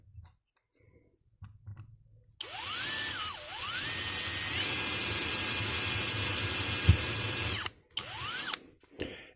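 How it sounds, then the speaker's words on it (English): A power drill whines up to speed and runs steadily for several seconds drilling a hole in a wooden clothes peg, then stops, with a short second burst near the end; no talking. "I'm going to drill a hole here."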